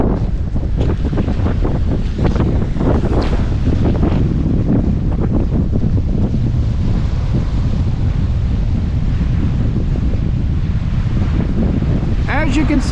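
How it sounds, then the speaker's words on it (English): A strong east-northeast wind blows across a choppy harbor on the Maine coast in winter, a loud continuous roar with heavy buffeting against the microphone and water sloshing beneath it. "the wind is coming in from the sort of east-northeast"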